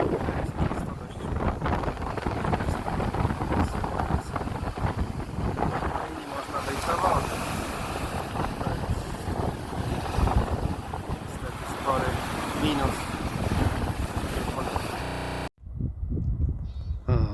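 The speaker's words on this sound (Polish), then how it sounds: "Ale strasznie wieje." Strong wind at the Croatian seaside roars and buffets the microphone without letup, a loud, rushing outdoor noise that cuts out briefly near the end.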